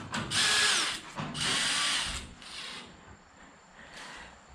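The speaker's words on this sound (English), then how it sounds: "I'm just going to tighten them up a little bit more." A power drill drives bolts into a Home Depot Husky cabinet during assembly, several loud close whirring bursts with ratcheting tones, fading to quieter trailing runs.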